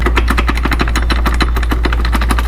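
A worn-out driveshaft on a Jeep Liberty makes a steady, loud rhythmic knocking and clunking, repeating quickly over a constant low drone, close by with no talk.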